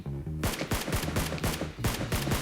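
Rapid automatic gunfire crackles in a shooter video game, with loud, closely spaced bursts of shots and sharp mechanical clicks repeating with no pause.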